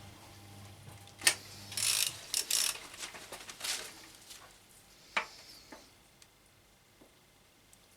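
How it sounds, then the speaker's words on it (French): A BMW K1200 motorcycle engine's crankshaft turned by hand during teardown gives faint mechanical ratcheting and a few sharp metallic clicks and clanks, scattered irregularly and close, with no talking. "je vais faire tourner le vilebrequin pour amener cette bielle là en haut"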